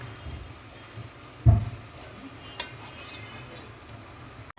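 Pulao gets stirred in a pan: a low sizzle runs beneath one firm scrape of a spoon and a couple of lighter knocks, close by with nobody speaking.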